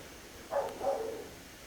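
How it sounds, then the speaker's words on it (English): A dog barks somewhere outside, two faint, muffled barks in quick succession at a distance against a quiet indoor background. "wow, there's a dog, right when I'm trying to be serious."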